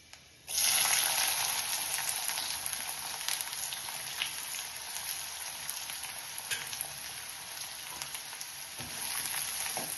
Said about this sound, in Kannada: ಎಣ್ಣೆ ಕಾದಿದೆ. ಈರುಳ್ಳಿ ಹಾಕ್ತೇನೆ.